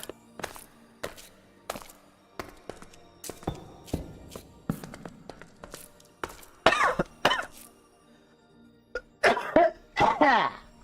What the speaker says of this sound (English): It wasn't even normal coughing.